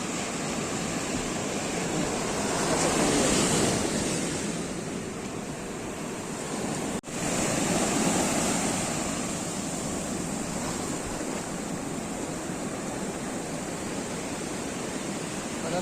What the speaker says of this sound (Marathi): परत लाट वरती जाता.